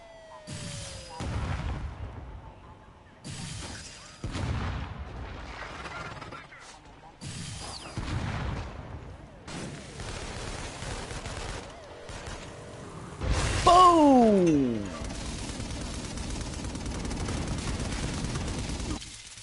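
Auto turrets firing in Infamous: Second Son: repeated loud bursts of automatic fire come in waves separated by brief lulls, with a descending whistling sweep near the middle and continuous noisy action throughout.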